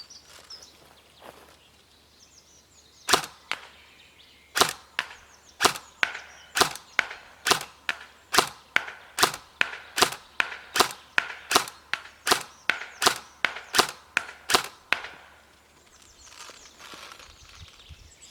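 An S&T AK104 airsoft rifle fires at a target 20 metres away, giving a steady run of about twenty sharp, evenly spaced cracks with short snappy decays and a quiet pause at each end.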